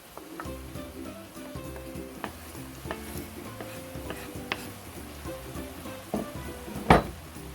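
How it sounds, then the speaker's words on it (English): Green onion and broccoli frying with ground beef bulgogi in a pan, a low sizzle broken by scattered clicks and utensil taps, with a sharper clatter near the end and a faint hum underneath. "Add my green onion."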